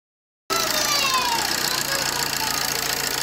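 The diesel engine of a 2009 Opel Agila DTI starts up after injector repair and keeps running with a steady, rough, clattering idle, close and loud.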